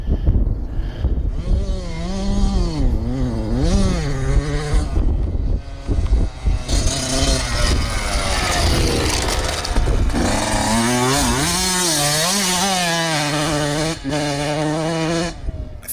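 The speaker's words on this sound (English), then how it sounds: "he's gonna do it with his yz150f. Get up to third gear." A Yamaha YZ150F dirt bike revs hard and loud up close, its engine pitch climbing and dropping repeatedly as the rider shifts up through the gears, with some wind buffeting.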